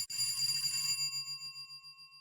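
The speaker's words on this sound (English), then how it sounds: "Inside, distantly, they heard a bell ring." An old-fashioned twist doorbell rings inside a house, heard from a distance: one bright metallic ring that decays over about two seconds, faint and alone.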